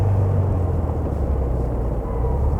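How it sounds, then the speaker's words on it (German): A black 1964 Porsche 356 C Coupé engine drones steadily while driving, a deep continuous rumble that stays loud and even throughout with no voices. "Motor ganz gesund, der dreht schön hoch."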